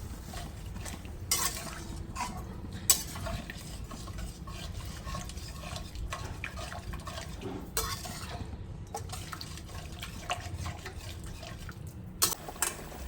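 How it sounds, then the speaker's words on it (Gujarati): A spoon stirs vegetable curry with brinjal, spices and water in a pan at home, producing steady soft scraping and sloshing with occasional sharper clinks against the metal, close and alone without talk. "હવે આપણે આને મિક્સ કરી લઈશું."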